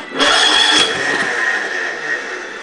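A Wheel Horse garden tractor engine cranks and catches on a snowy night, a loud close rasping start with a sputter near the beginning, then settling into a steady raw idle that holds to the end.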